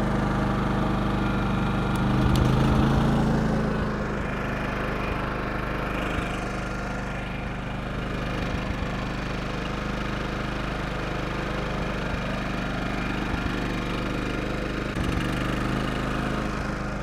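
An open-frame portable generator drones steadily after starting, a loud close engine rumble with constant mechanical vibration holding throughout, with no speech.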